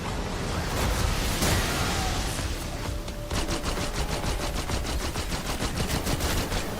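Rapid, loud automatic fire from the Mystic Gold Maelstrom gun in Black Ops 6 zombies. It opens with a few heavy bursts, then settles into a fast, unbroken rattle of shots that runs to the end.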